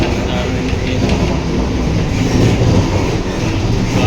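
Inside a moving Indian train in the early morning, a steady loud rumble of wheels on track with a continuous clickety-clack rhythm.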